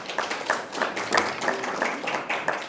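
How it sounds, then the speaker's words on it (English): A small group of parents and godparents at a baptism prep class applauds, producing thin, scattered claps in a loose, uneven rhythm from only a few people, moderately close. "Let's give them a round of applause here,"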